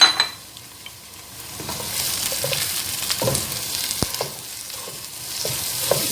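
Ground meat sautéing with garlic and onion in a pan for spaghetti sauce, a close sizzle broken by repeated scraping stirs and a sharp utensil clack, with no voices.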